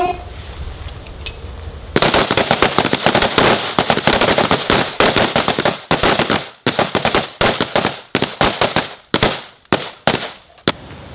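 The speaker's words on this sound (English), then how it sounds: "You have to be aggressive, especially when we start shooting SRM" Rifle fire during instructor shooting training, a rapid string of sharp, loud shots from several shooters in quick irregular bursts after a brief quiet start.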